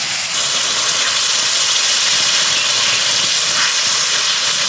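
Water poured into hot fried spice paste for an egg curry gives a loud, continuous, steamy hiss that rises quickly and holds steady throughout, with no speech.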